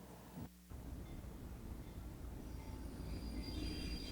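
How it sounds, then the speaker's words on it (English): A replica 1800s passenger train pulls into a station, a steady broad rumble of rolling wheels and cars that builds slightly toward the end, heard alone without talk. "A 1800 replica train pulls into the station to pick up a bunch of eager kids."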